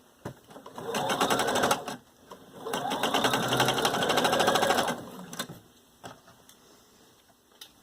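A sewing machine stitches reinforcement along the side seams of a garment in two fast bursts of rapid mechanical whirring, each lasting a couple of seconds, followed by quiet clicks.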